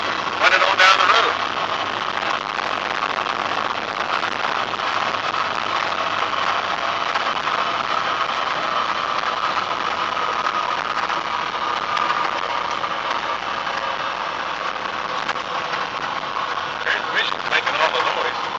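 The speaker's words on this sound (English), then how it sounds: "Transmission's making all the noise." A Mack truck converted to full electric drives along slowly with a steady whine from the transmission, constant and moderately loud, with someone talking over it.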